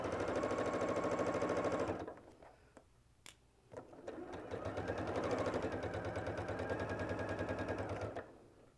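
A sewing machine stitches a quilt seam between blocks, a close, rapid, steady mechanical whirring that stops briefly with a few clicks and handling sounds, then runs again at full speed.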